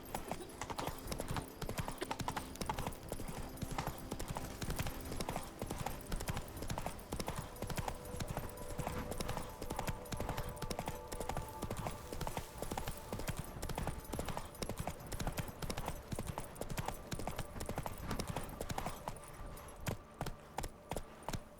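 Horse hooves clip-clop at a steady galloping rhythm while riding in The Witcher 3 video game, loud and continuous throughout, with a brief voice near the end.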